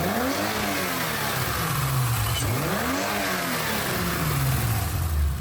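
A modified BMW E30, converted from a 320 to a Baur 2.9 with a manual gearbox, revs repeatedly, its engine note swooping up and down in several close, loud blips with no voices over it.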